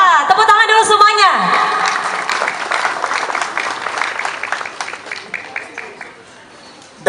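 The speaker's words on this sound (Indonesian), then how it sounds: "Tepuk tangan dulu semuanya." An audience applauds at the 17th anniversary celebration of Brigade Manguni Indonesia in Manado; a brief voice opens before loud clapping swells, then gradually thins and fades.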